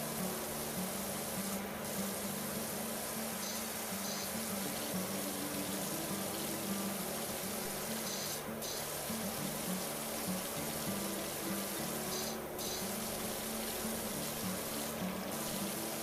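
Water sprays steadily onto grass from a hose during an outdoor cleanup, a continuous close hiss with a low pump-like hum underneath, unbroken for the whole stretch and with no talking.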